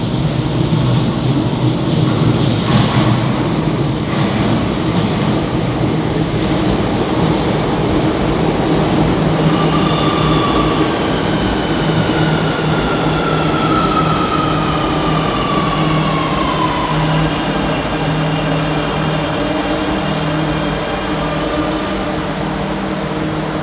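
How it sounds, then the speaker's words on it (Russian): A Buenos Aires metro train pulls into a station with a steady, loud low rumble throughout, while thin metallic brake and wheel squeals rise and slide in pitch midway, with no talking. "Вот едет следующий поезд, смотрите, как прибывает поезд."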